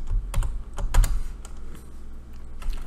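Keys clack on a computer keyboard in short irregular bursts of close, crisp taps while code is being written, with brief pauses between keystrokes and no talking.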